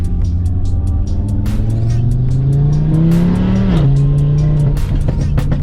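A 2019 Audi RS3 with a full Milltek exhaust revs hard and loud, pitch climbing steadily then dropping sharply, with a steady roar and a few sharp pops throughout.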